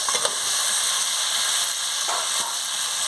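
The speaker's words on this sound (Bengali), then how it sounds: "এবার আমি ডিমটা আর আলুটা দিয়ে দিচ্ছি" Eggs and potatoes drop into a spice paste being fried down, giving a loud, continuous sizzle with a few brief stirring scrapes and bursts along the way and nobody talking.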